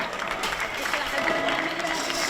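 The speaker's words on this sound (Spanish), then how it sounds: "Venga, un aplauso que estáis durmiendo" An outdoor festival audience claps at a motorcycle gymkhana, with a brief burst of scattered applause heard under crowd noise and voices.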